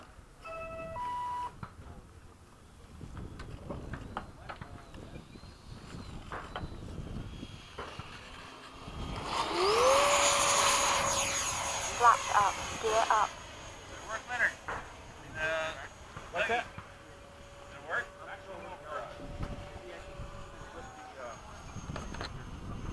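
An FMS 70mm F/A-18 electric ducted-fan model jet sweeps past in a flying pass, its whooshing fan hiss swelling loudly for a few seconds with a rising whine, then fading, while voices talk across the scene.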